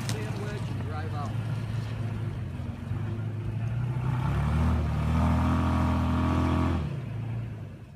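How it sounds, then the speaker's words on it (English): A 2016 Toyota Tacoma pickup climbs through sand under crawl control, its engine droning steadily and then rising into a louder, heavier strain before easing off, with voices talking over it. "We're going to watch the crawl control pick up the wheel slippage, start building itself a sandwich, and drive out."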